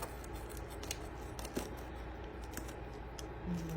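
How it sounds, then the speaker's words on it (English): Pizza cutter rolling through a crispy tortilla pizza, a series of faint scraping and crunching strokes close by over a low background hum, with no talking. "So now we're gonna go ahead and get a pizza cutter. We're gonna cut right into it."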